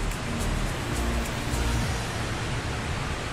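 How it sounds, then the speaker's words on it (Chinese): A mountain stream flows through deep snow near Yuzawa Kogen in Echigo-Yuzawa, Japan, a steady broadband rush that stays even and continuous throughout, with no voices. "背景声音是溪流声"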